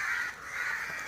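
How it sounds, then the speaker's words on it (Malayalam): Crows cawing overhead, a steady harsh call held faintly at a distance for about a second, with no voices. "കാക്കകളെല്ലാം അതിനെ പിടിക്കാൻ വേണ്ടിയിട്ട് മുകളിലുണ്ട്"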